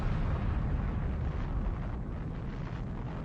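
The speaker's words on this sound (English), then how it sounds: "At Eglin Air Force Base in Florida, the United States tested a new superweapon." A MOAB (Massive Ordnance Air Blast) bomb with an aluminum skin detonates during a test at Eglin Air Force Base, Florida, heard as a sustained, loud, rumbling roar with no voices.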